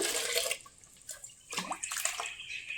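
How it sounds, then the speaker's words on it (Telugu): Water being poured into a plant pot splashes and trickles in short bursts, with gurgling pauses between pours, close by and fairly quiet. "ఇదిగో ఇది ఇప్పుడు రెండు లీటర్ల వాటర్ వేసుకున్నాను"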